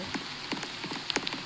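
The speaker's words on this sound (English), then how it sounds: "It's raining out there." Rain in a Roblox video game falls as a steady soft hiss with scattered light patter and a few sharper drips, faint and alone.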